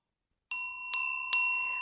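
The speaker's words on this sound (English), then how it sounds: "Bells are another vibration that helps shake up energy and move it around" A small handheld bell used to cleanse a room rings three times in close succession, each strike bright and clear, sustaining with a shimmering decay over quiet.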